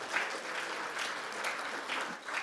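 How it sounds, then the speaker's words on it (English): An audience claps in a steady, moderate round of applause at a live performance and interview event, sustained and even, heard from a little distance without any talking. "Can we get a little round of applause"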